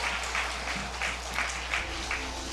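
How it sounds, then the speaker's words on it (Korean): Congregation applauding during a Sabbath worship service, many hands clapping in a lively, slightly pulsing rhythm under a low steady hum, with no talking over it. "예스 하시기를 여러분 박수!"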